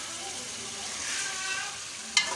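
Chicken karahi with onion paste, tomato puree and spices frying in a pan, a steady close hiss of sizzling oil with a sharp stirring scrape near the end.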